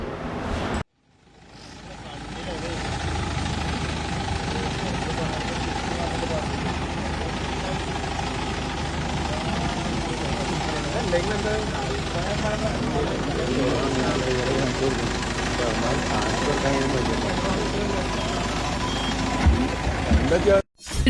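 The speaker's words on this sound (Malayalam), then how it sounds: "ക്രെയിൻ ഉപയോഗിച്ച് വാഹനം പാടത്തു നിന്നും ഉയർത്തി മാറ്റി." A crane lifts a crashed car out of a roadside paddy field, its heavy engine droning steadily for the whole stretch with mechanical rattles. A voice talks over the noise.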